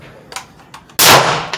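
An RIA VR80 shotgun fires a single loud, close blast at an outdoor shooting range in San Leandro, preceded by a few faint mechanical clicks, with no talking.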